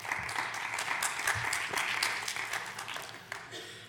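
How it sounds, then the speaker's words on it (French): An audience at a plenary conference session applauds steadily for several seconds, a dense, even patter of clapping heard from a distance that slowly thins toward the end. "C'est pour ça qu'ils applaudissent"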